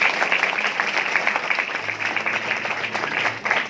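A hall audience at a moot court event in Nashik claps vigorously, a dense, even applause sustained for several seconds without pause.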